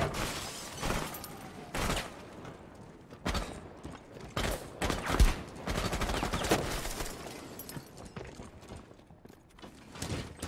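Video game gunfire strikes a shield in a flurry of sharp bursts and clanking impacts, irregular and moderately loud, mixed with rattling mechanical game sounds.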